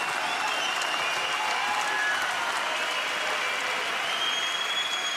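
A kickboxing arena crowd in France applauds and cheers after a Glory heavyweight title fight, a dense, steady roar of clapping that holds at full volume throughout.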